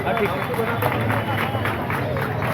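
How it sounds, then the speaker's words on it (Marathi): An audience at a Khatu Shyam bhajan evening event in Savda breaks into loud, dense applause, many hands clapping together in a steady close roar, mixed with crowd murmur. "एका जोरदार टाळ्यांचा प्रकार"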